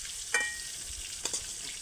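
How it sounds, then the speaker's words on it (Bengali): Pointed gourd (potol) frying in oil gives a steady soft sizzle, broken by a couple of brief scraping stirs of the pan, close and moderately quiet with no talking. "দেখো পটলগুলো বেশ লাল লাল করে কিন্তু ভেজে নিয়েছি"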